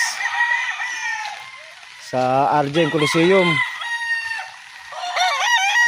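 Roosters crowing loudly and close on a rainy farm in San Pablo where gamecocks are kept, several long cock-a-doodle-doo calls with clucking between, while someone speaks briefly over them.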